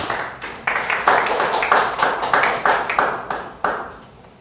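A church congregation claps together in rhythm at a Sunday worship service in unison beats, fairly close and steady, then fading.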